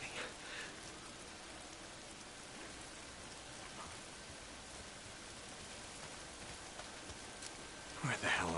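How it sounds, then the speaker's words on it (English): Steady rain falls in the open-world game Days Gone, an even hiss of drops with no let-up. It ends in a brief, louder rustling burst. "If it's not the freaks, it's the goddamn rain."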